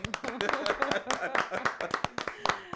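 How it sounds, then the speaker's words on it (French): Sparse, sharp hand claps from a small group greet a radio studio guest, close and fairly quiet, with talking running over them. "Applaudissements très forts pour elle."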